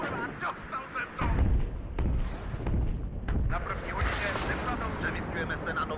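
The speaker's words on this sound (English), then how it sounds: "That artillery just does so much damage." Artillery fire in the game WARNO, a barrage of booming impacts and sharp cracks arriving in quick succession, with low thuds rolling underneath and a voice talking over the shelling.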